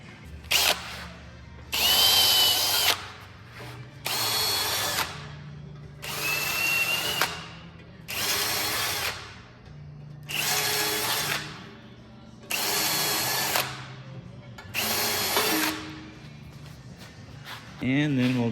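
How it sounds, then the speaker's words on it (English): A power drill bores holes for tapping a 10-24 thread while building a custom boat center console, whining in seven or eight evenly spaced bursts of a couple of seconds each, with quiet gaps and low background sound between. "Next, I'm gonna take and drill and tap this."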